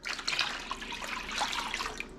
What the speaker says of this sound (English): now we're put our water in